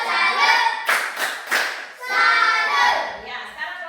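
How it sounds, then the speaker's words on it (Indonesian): Classroom group of children doing a rhythmic salute clap for a team, several loud sharp bursts of clapping mixed with chanting voices, close and lively. "tepuk salut dulu untuk kelompok 1"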